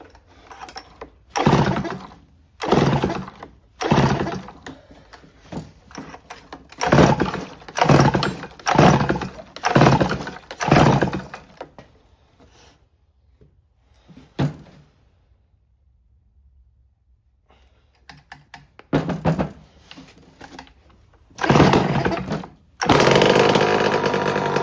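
Someone repeatedly pull-starts a Homelite C5 chainsaw, producing a series of loud, rasping bursts separated by pauses, then a quieter stretch before more pulls and a final sustained running roar.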